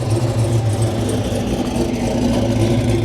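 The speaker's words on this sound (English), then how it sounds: "Here we got a nice Pontiac GTO rolling through." A Pontiac GTO rolls slowly past at a classic truck show, its engine making a steady, loud, rumbling idle throughout with no pauses.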